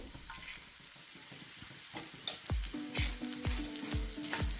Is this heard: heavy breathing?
no